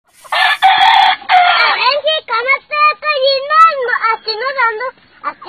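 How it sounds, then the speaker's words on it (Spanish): Roosters crow loudly and close by in Sinaloa, Mexico, with long strained calls followed by a run of rapid clucks and squawks. A voice may mix in among the birds. "Niño versus gallos."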